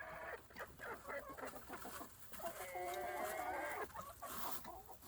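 Backyard hens clucking and chattering in a busy, overlapping flock near winter water, with continuous mid-pitched calls and a few louder squawks throughout.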